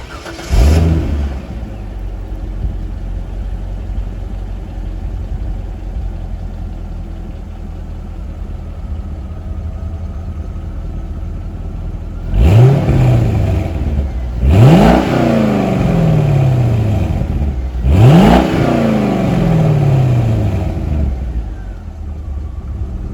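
A Chevrolet C5 Corvette V8 cranks and fires into a rumbling idle. Later it gives three sharp, loud revs that rise and fall, and the engine keeps idling between them.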